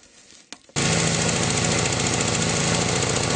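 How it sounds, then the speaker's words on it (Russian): A Neva MB-2 walk-behind tractor fitted with a snowblower attachment starts after brief rustling, then its engine runs steadily and loudly up close, with a dense chugging, knocking idle. "Сейчас будем заводить и покажем его в действии."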